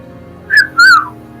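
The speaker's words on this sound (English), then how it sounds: "I'll whistle for you." A person whistles two short, bright notes in quick succession, the second slightly longer and sliding downward, loud and close against a quiet background.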